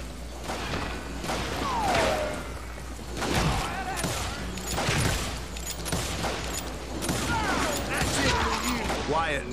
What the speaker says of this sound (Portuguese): esse clima de trocação de tiro é gostoso